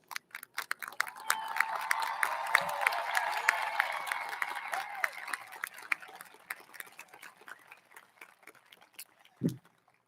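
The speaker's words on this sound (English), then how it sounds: "All cum laude students, please stand now so that we may applaud your achievements" Applause from a high school commencement crowd as cum laude graduates stand, dense sustained clapping that swells and then thins out over about ten seconds, with a few scattered claps at the end.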